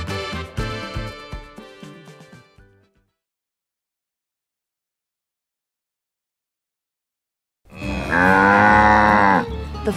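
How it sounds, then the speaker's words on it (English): Cows moo loudly, a burst of lowing at the start, a long silence, then another drawn-out moo near the end. "The farm cows are relaxed."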